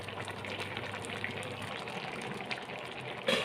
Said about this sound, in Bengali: ঝোলটা খুব সুন্দর ফুটছে।